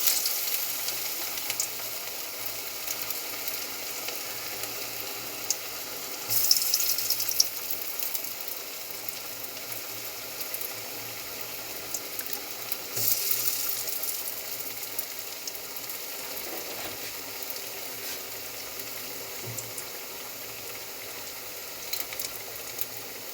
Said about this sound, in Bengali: ভাজতে যতটুকু সময় লাগবে ততটুকু আমি সময় ধরে ভেজে নেব।